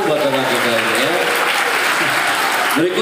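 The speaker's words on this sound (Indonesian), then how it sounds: "Tepuk tangan buat teman kita ini ya." Applause from a student audience at a motivational seminar in a Jakarta vocational high school, dense and steady clapping filling the whole stretch, with a few voices rising over it near the end.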